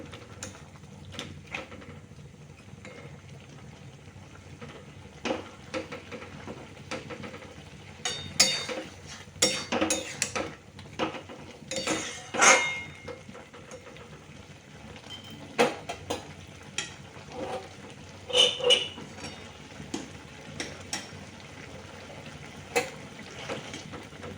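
Already fried pointed gourds (potol) are stirred and simmered in a pan: a soft, steady sizzle and bubbling with irregular scraping stirs and clinks, some louder bursts midway, and no talking.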